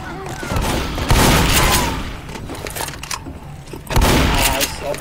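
Gunfire from the zombie shooter game Left 4 Dead, loud bursts of shots, with heavier volleys near the start and again near the end, while a player talks in between.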